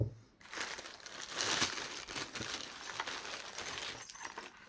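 Plastic packaging around a cat's feather duster toy is unwrapped with steady close crinkling and crumpling that rises and falls for several seconds.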